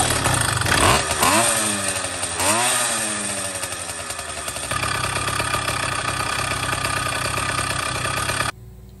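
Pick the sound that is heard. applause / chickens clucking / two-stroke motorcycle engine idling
two-stroke motorcycle engine idling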